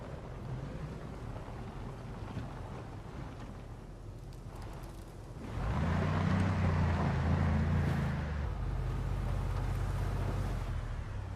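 A car engine with a muffler idles in a steady low rumble inside the zombie survival game Project Zomboid, then grows louder and fuller partway through and keeps running without any talk.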